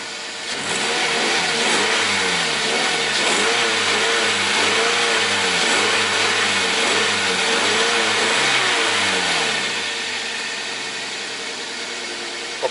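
A Toyota Corolla engine revs repeatedly as the gas pedal is pressed, its pitch rising and falling in several smooth surges over a steady idle, loud and close, fading back toward idle at the end.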